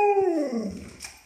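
A dog gives a single drawn-out, howl-like bark on command, loud and near, sliding downward in pitch and trailing off.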